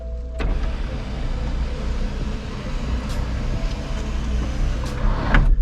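A low motorized whir runs steadily for several seconds as the sunroof panel of a 2003 Honda CR-V travels along its track, with faint clicks and a slight rise at the end.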